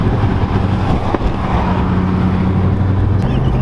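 Turbocharged 2007 Ford Mustang GT on the move, a loud steady low engine and road drone from inside the cabin with wind rush and no talking.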